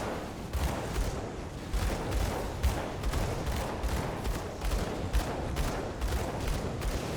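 Rapid gunfire from a Gunslinger shooting the boss Laudos Vagra in Path of Exile 2, a steady rhythmic stream of punchy shots with heavy impacts, loud and continuous.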